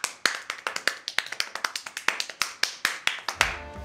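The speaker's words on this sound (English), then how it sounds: "Do people always believe that you can clap this fast?" A single person claps extremely fast, producing a rapid, even train of sharp, close hand claps that sounds almost like tap dancing, followed by a brief low rumble at the end.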